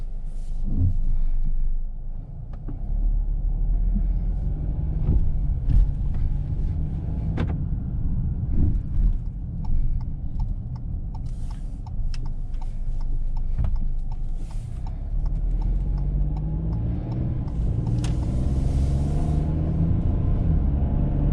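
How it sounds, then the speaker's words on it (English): A 2021 Ford Bronco Big Bend on a test drive, with steady low cabin rumble and road noise and scattered small knocks and rattles from the interior and suspension throughout, no one talking. "let's go ahead and take this Ford Bronco on a test drive and see how it does"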